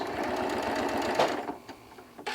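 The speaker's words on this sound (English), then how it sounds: "we're just going to stitch right along here" A sewing machine runs fast and steady, stitching a quarter-inch seam in fabric with a dense motor whir and needle chatter up close, slowing and pausing briefly near the end before starting again.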